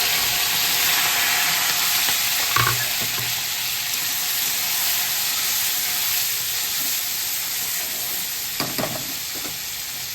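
Chopped tomato and green chilli fry in a pan for a tomato chutney, giving a steady, loud sizzle throughout with a few faint utensil clinks and stirring knocks.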